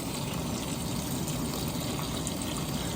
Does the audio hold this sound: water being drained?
yes